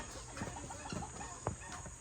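Farm chickens clucking in a noisy outdoor setting, short scattered clucks and calls rising over a steady background hum, moderately distant with no talk.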